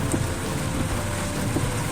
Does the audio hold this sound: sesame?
no